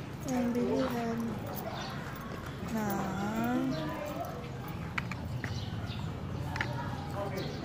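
Horse hooves clip-clop along a street in Vigan City as a horse carriage passes, a steady rhythmic clatter at moderate distance running under continuous talking voices, with faint birds chirping.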